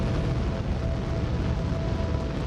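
Rocket ignition in the video game Eden Crafters gives a steady, loud, roaring rumble that holds evenly for a couple of seconds.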